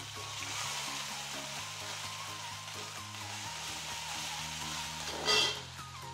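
Green chili paste sautéing in a pan, a steady close sizzle and hiss with a low hum underneath and a brief louder flare of spattering near the end.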